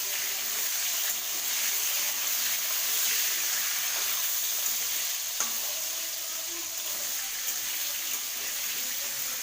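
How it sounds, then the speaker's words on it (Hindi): Potatoes frying in a pan give a steady, close hiss of sizzling oil that runs without a break for the whole stretch, with a few faint clicks of stirring and no voices. "आलू को भी हम अच्छे से फ्राई कर लेंगे।"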